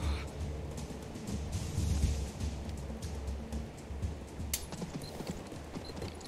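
Horses ride at a steady canter in the video game King's Bounty 2, their hooves clip-clopping in a continuous rhythm over a low rumbling game backdrop.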